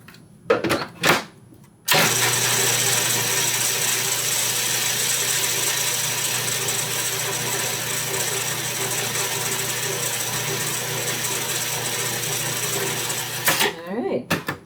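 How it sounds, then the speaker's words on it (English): A food processor whirs steadily as it mixes flaxseed meal with liquid for a vegan cake batter, a loud, close, continuous motor hum lasting about twelve seconds, with brief clattering before it starts and after it stops. "So let's just turn the processor on here just for a minute."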